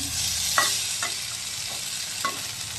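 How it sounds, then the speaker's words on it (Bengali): Pointed gourd (potol) slices frying in a pan give a steady, close hiss of sizzling oil, punctuated by a few brief scraping clicks from stirring; no voices. "এই যে এখানে পটল ভাজা হচ্ছে"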